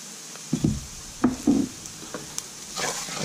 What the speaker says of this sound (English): my powder, curry powder's just been frying off for another minute or two